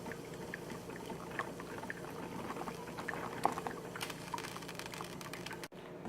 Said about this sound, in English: The Caffe Verona has finished brewing.